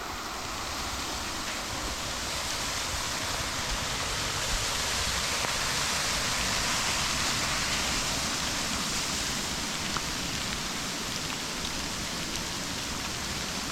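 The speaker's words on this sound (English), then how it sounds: "That's the falls there." Waitui Falls, a modest waterfall in New South Wales, gives a steady, dense wash of falling water, constant and fairly near with no talk.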